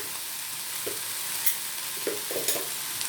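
Yam curry is stirred and mixed in a pan over light sizzling, with a few soft scraping strokes of the spoon against the pan.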